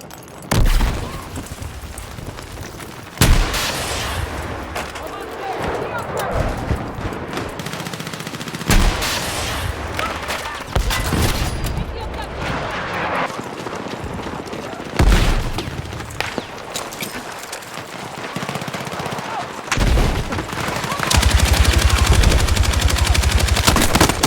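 Rapid gunfire bursts and loud booms from grenade blasts in the Battlefield 6 video game, repeated across the stretch with dense, heavy shooting throughout and a sustained louder barrage near the end.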